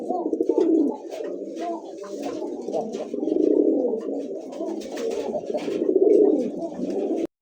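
Giribaz pigeons coo in a steady, close, fairly loud run of low throaty calls that rise and swell in repeated bursts, with faint chirps above and no talk over them.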